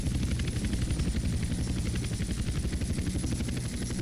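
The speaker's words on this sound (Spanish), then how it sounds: "A rotar el helicóptero 80 grados." Helicopter in GTA San Andreas flight school, a steady loud rotor chop with pulsing low-end thump and engine whine held throughout, no voices.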